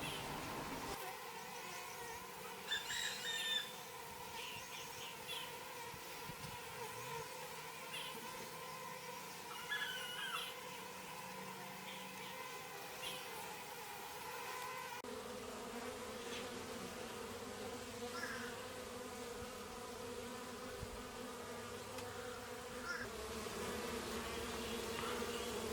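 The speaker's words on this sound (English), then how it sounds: "Now I got bees all over my hand." Bees swarming close around a person gowned up in a beekeeper's mask, a dense steady buzzing drone with several insects passing near the microphone, continuous throughout without speech.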